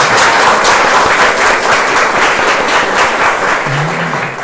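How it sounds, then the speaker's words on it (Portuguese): A group of students and listeners applauds loudly and continuously, dense clapping filling the whole moment before tapering slightly at the end, with a brief voice-like tone near the close. "palmas para vocês agora, né?"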